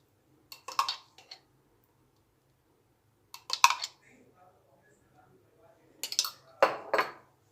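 A metal spoon clinks against two glasses while mango pulp is spooned in for raw mango sharbat, with three short bursts of sharp, close clatter separated by quiet pauses.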